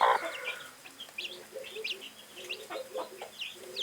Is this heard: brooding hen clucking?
yes